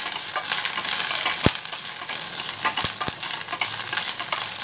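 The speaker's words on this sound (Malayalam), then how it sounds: "നന്നായിട്ടൊന്ന് വഴറ്റിയെടുക്കണം." Green chillies, ginger and urad dal sauté in hot oil with mustard seeds for chana dal sundal, giving a steady close sizzle broken by a few sharp clicks of a stirring spoon against the pan.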